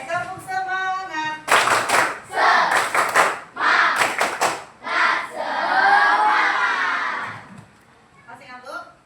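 Schoolchildren perform a rhythmic spirit clap in a classroom, bursts of quick clustered claps alternating with group chanting and shouts, loud and close, with an adult voice speaking at the start.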